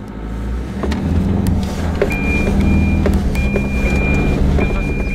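A 2021 Isuzu D-Max pickup truck pulls away, its engine note rising into a steady low drone with intermittent clicks and a thin electronic beep repeating in the cabin.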